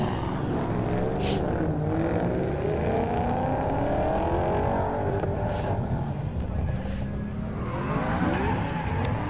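Ford Mustang drift car sliding during a round of the French drift championship at Val d'Argenton, with a continuous roaring engine and tire noise heard from a distance and steady crowd ambience throughout.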